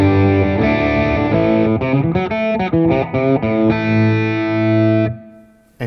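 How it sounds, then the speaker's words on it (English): Fender Acoustasonic guitar in its B position giving a distorted tone, a short strummed phrase of ringing chords and quick changes that fades out at the end. "you've got that more distorted sound in B, in the B position"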